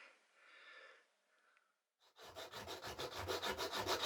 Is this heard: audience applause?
no